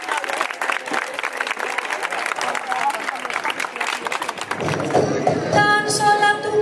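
Warm applause from an audience at a book fair event in la Vall d'Uixó, steady clapping throughout that thins toward the end as voices and other sounds come in.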